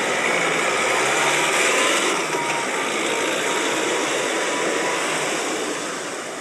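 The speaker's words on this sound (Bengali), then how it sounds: "নিবারণ বাবু সাধু বাবাকে নিজের গাড়ি করে স্টেশনে ছাড়তে গেলেন।" A car engine runs at a steady, loud drone with a broad, buzzing roar that eases slightly toward the end, used as a sound effect in a comic audio story.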